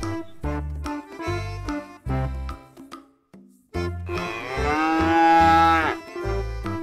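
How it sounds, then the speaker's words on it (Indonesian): Deep, loud mother cow moos sound close by, several long drawn-out calls in succession with short pauses, one rising into a strained bellow. "Ibunya sapi grandong. Ibunya besar sekali teman-teman."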